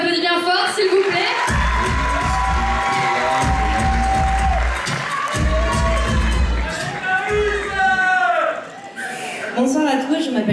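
Theatre crowd cheering loudly for candidate number 7 at an evening show, with shouts, whoops and rhythmic stomping pulses, then a brief dip before the noise swells again.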